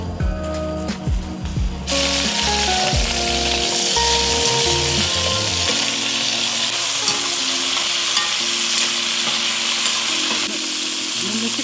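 Vegetables are stirred and fried in olive oil, a loud constant sizzle that bursts in suddenly after a few seconds of clinking pan sounds and then hisses steadily, with no talk.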